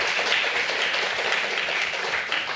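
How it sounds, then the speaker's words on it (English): Congress audience applauding at a European patient organisations event: a dense, continuous wash of many hands clapping, fairly close and steady throughout. "Applause once again."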